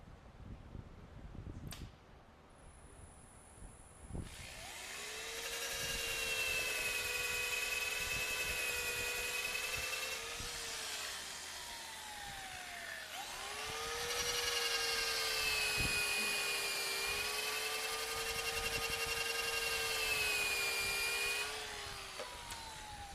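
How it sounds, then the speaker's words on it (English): A high-pitched power sander or rotary tool works a joint on a snowman figure in two long, steady whining passes, with a short pause between them and no talk. "So I should be able to sand both of those and clean up anything that needs to be cleaned up."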